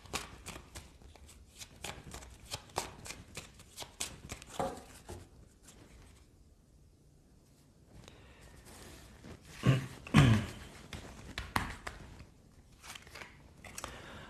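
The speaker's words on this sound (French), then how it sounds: "je prends les tarots comme l'autre fois" Tarot cards are shuffled up close by hand, a run of irregular crisp riffles and papery slaps with a brief lull midway and a louder flurry near the end; no voices are heard.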